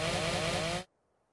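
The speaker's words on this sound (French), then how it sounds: "Un bruit de tronçonneuse." A Mantis creature in ARK Primal Fear gives off a loud, steady, chainsaw-like buzzing whine up close, lasting under a second before cutting off abruptly into silence.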